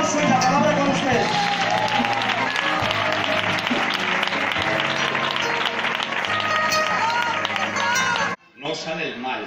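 Loud, sustained applause from a church congregation, dense clapping filling the hall for about eight seconds before cutting off abruptly, followed by a voice beginning to speak.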